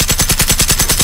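Rapid automatic gunfire from a hostile machine in the game Generation Zero, a loud, steady stream of about a dozen evenly spaced shots in one continuous burst with no talking.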